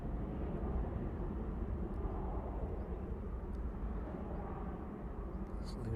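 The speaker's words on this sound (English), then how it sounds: "There's the chewy departs out there. There we go, initiating that turn to the south." Airplane departing East Midlands Airport and turning south, heard as a distant, steady jet roar that stays fairly level throughout, with no talk over it.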